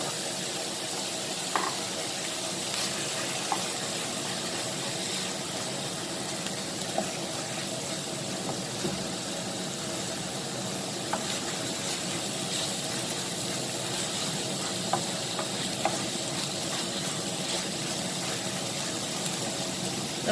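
Meat stir-frying in a pan with oyster sauce for Thai basil stir-fry with spinach, giving a steady, even sizzle throughout with faint occasional clicks and no talking.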